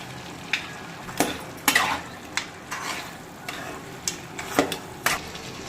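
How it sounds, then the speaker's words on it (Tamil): Mutton gravy with turmeric being stirred in a pan, a spoon scraping and clinking against the metal in irregular strokes over a soft background sizzle, close and fairly quiet. "இப்போ இது கூட நம்ம கொஞ்சமாக மஞ்சத்தூள் ஆட் பண்ணி இதை நல்லா கிளறி விட்டுக்கலாம்"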